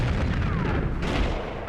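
Grenade explosions in a video game, a continuous loud rumbling barrage of booms filling the whole moment with no pause.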